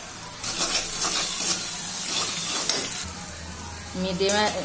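Fish frying in oil seasoned with salt and turmeric, a steady close sizzle and crackle with occasional stirring scrapes, running alone without talk.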